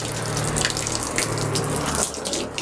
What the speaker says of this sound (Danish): så hælder man noget vand ud af beholderen